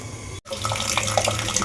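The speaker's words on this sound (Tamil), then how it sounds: "இது கருவேப்பிலை அலசி வைக்கிறது" Curry leaves being rinsed under a running kitchen tap, a steady close splash of water into a sink that cuts out briefly, then resumes with bubbling and trickling detail.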